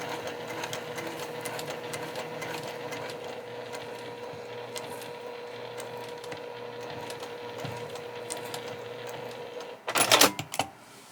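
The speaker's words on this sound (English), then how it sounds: "you can also do a second line of stitching if you feel so inclined" A sewing machine stitches a Lola bag in a steady, continuous mechanical whir and rapid ticking for several seconds, close and moderately quiet, ending in a louder burst of clattering bangs.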